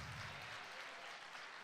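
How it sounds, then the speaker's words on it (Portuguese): Applause from a church congregation at a Sunday worship service, a steady broadband clatter of many hands clapping throughout, fairly distant and even in level. "Dê um aplauso ao Senhor."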